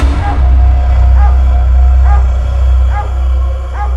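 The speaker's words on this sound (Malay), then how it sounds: "anjing dia ni terus menyalak tanpa henti-henti menyalak" A dog barks over and over, its repeated yaps standing out above a loud, steady low rumble that runs under the whole stretch.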